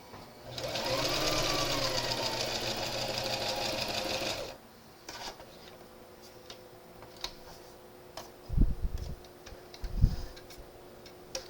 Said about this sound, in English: Put the needle down in, make sure it's in there good, and make a nice little seam.